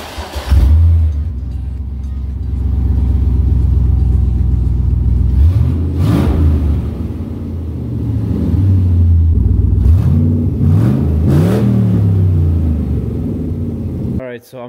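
An LS6 V8 swapped into a BMW E46, running with open headers: a loud, close, rough rumbling idle broken by several sharp throttle blips and revs rising and falling, with a voice speaking intermittently.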